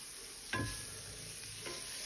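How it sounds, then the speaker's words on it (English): A generous amount of butter hisses faintly in an already hot pan, with a brief stirring scrape and low steady sizzle, quiet and close. "So I'm gonna put a good heavy amount of butter in here. The pan is already nice and hot,"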